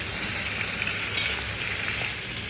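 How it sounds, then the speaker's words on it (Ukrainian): Chunks of meat fry hard in a pot on a home stove for plov, giving a loud, continuous sizzle with crackling pops and no voices. "Перемішуємо тільки після того, як добре обсмажили з однієї сторони."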